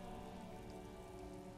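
Steady rain in the Disco Elysium game, falling on a surface during a traffic jam, a continuous soft hiss and patter with a low rumble beneath, even and unbroken throughout.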